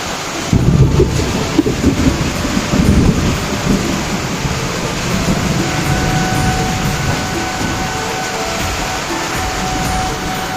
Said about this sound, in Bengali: এখন আসরের পর থেকে প্রচুর পরিমাণ বৃষ্টি হচ্ছে